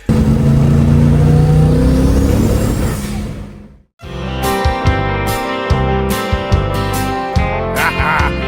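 A Ford 363 stroker V8 engine starts and roars, revving hard for a few seconds, then cuts off abruptly before music with punchy drum hits starts.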